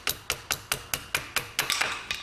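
A hammer taps a part into place during a clutch replacement on a Citroen C5, about ten sharp metallic strikes in an even rhythm, close and fairly loud, with no talking.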